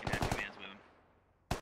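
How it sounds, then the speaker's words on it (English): Burst of automatic gunfire in the military shooter game Squad, a rapid string of loud close shots that fades into a short decaying echo, then one more sharp report at the end. "They are shooting at dirt."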